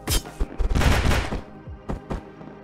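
A gun in the Among Us Arena fighting game fires in close, loud bursts: a quick cluster of sharp shots up front, a denser volley after, then two more isolated blasts near the end.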